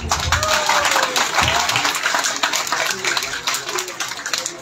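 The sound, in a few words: audience applause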